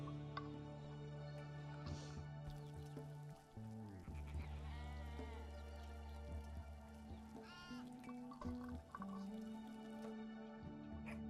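Sheep bleat in the RimWorld video game, a few wavering cries rising over quiet game ambience with soft dripping and background tones, fairly faint overall.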